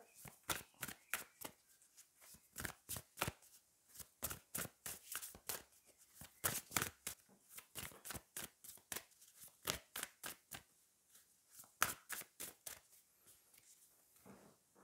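A deck of oracle cards being shuffled by hand, a long run of crisp, close riffling flicks and soft slaps in quick uneven bursts, fairly quiet and with no talking.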